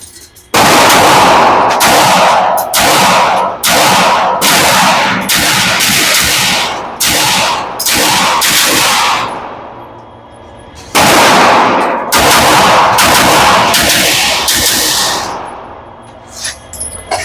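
Rapid strings of pistol gunshots from a Fusion Firearm XP Pro Limited Edition with PVD bronze finish, fired fast in two long bursts with a brief pause between, loud and close with echoing decay.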